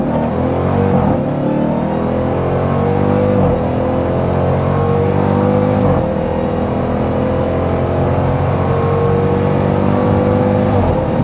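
A 2024 Dodge Durango SRT Hellcat SUV accelerating hard, its engine roaring loud and close in rising sweeps with gear shifts breaking the climb, steady for about eleven seconds with no talking.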